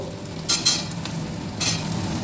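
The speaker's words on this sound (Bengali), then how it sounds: "পেঁয়াজটা একটু ভেজে নেব, নিয়ে আমি সবজিগুলো দিয়ে দেবো।" Onions and vegetables sizzle steadily in a hot pan for a fish-head and pui shak dish, with a few brisk stirring scrapes breaking through the frying hiss.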